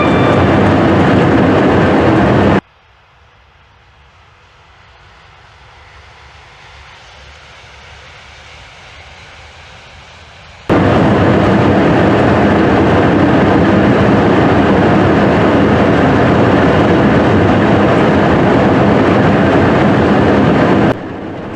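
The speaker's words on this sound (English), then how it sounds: "Pass an Avanti West Coast Class 390 Pendolino," An Avanti West Coast Class 390 Pendolino passes on the main line toward London Euston, giving a loud, steady rushing roar, a sudden drop to a quieter rumble, then a second abrupt burst of roaring noise that lasts to the end.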